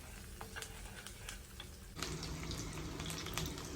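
Steady frying sizzle of curry leaves in a clay pot, close and continuous, growing a bit louder and denser halfway through.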